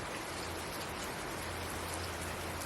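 Steady rain falling outdoors, a dense, even hiss of drops with a low rumble underneath, continuous and unbroken, no voices.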